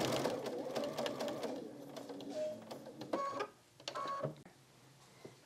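Domestic sewing machine stitching a quilt-as-you-go tulip block, running in several quick mechanical bursts with short pauses between, close and fairly quiet.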